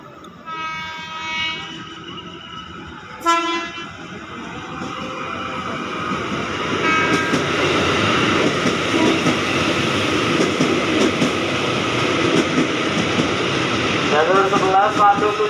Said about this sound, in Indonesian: Hati-hati jalur 3 dari arah utara kereta api langsung.